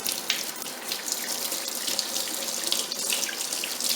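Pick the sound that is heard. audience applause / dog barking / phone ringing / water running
water running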